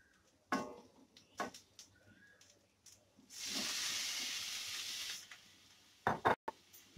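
Fried cauliflower goes into a pan of mustard and poppy seed paste, bringing a few sharp knocks and then a sustained sizzling hiss that lasts about two seconds before more clatter. The sound is quiet and close, with no talking.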